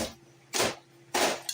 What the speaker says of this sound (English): that's me ice picking the ice.